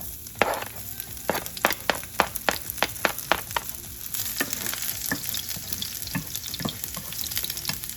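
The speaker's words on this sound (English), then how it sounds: "Now put the garlic first." Garlic hits hot oil in a pan and sizzles with a steady crackling hiss, punctuated by a rapid run of sharp spatula taps and clicks early on, then a continuous close sizzle with scattered pops.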